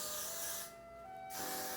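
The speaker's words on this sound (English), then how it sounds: "I'm actually going to take some freeze spray just to pull back my baby hairs and edges on the frontal" Freeze hair spray hisses from an aerosol can in a close, steady burst, pauses for about half a second, then sprays again, on hair being smoothed back along the front of a lace-front wig.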